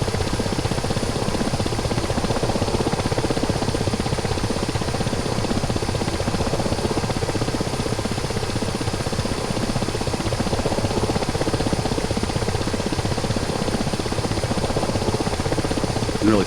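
A helicopter in a video game flight mission drones steadily with a loud, constant rotor and engine roar, flying in windy conditions with no breaks for the whole stretch.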